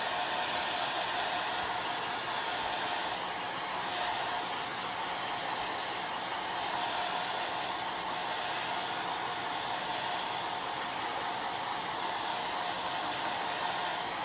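A hair dryer blows steadily on a chalk transfer stencil, a continuous close, loud airy whoosh of broadband noise that holds evenly for the whole stretch with no talking over it.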